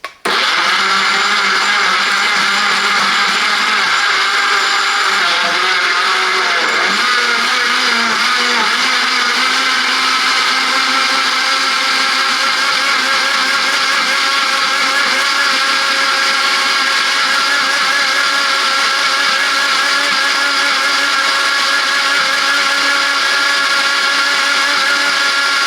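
A Silvercrest 600W blender, model SSMKH 600 A1, blends cucumber and other vegetables with a loud, steady motor whine that runs continuously from start to finish. The pitch shifts slightly early on as the load settles.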